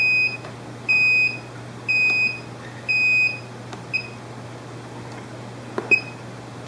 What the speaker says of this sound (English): you'll still know data is coming in because you hear that beep once a second